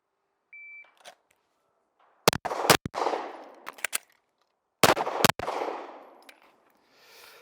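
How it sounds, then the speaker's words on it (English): Pistol drill shots in two quick pairs, each pair a sharp double crack, separated by a pause for a reload with small clicks and handling noise; the reports ring out loud and close, with no talk. "Again, fire 2, reload, fire 2, no part time."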